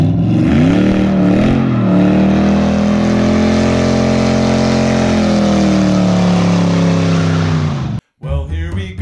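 Car with a swapped-in Hemi V8 driving on the road, a loud, steady close engine drone that swells briefly before cutting out near the end.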